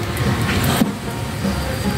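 Car slowly reversing into a marked parking space in Lhokseumawe, a steady engine rumble with faint traffic noise around it, heard up close without talk.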